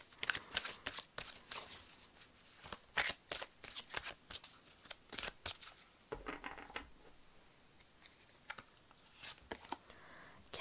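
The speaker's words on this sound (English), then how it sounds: "I'm gonna shuffle them for you" A deck of tarot cards shuffled by hand in rapid riffles and slides, crisp papery bursts close up with short pauses between rounds, no talking.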